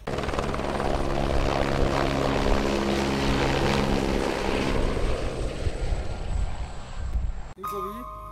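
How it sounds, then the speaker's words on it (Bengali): A helicopter's engine and rotor run as a steady, loud, continuous drone for about seven seconds, then cut off abruptly, giving way to a brief, different sound. "তো হেলিকপ্টার স্টার্ট করতেছি।"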